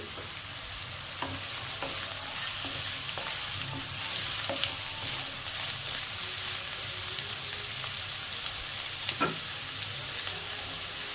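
Chopped cauliflower frying in a pan for a mixed pulao made with leftover rice, a continuous close sizzle broken by occasional scraping knocks of a spatula stirring.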